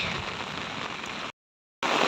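Heavy rain pouring onto a flooding road, a steady close hiss of falling water broken by a short silent gap before the downpour resumes.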